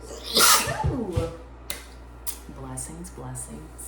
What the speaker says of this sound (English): Sneezes are like, I feel like good luck.